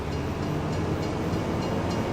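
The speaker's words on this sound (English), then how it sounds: "Oh, shit, bloody train." A train rolls past in the Farming Simulator 25 video game, a loud, continuous rumble of wheels and wagons clattering close by, steady throughout with no speech.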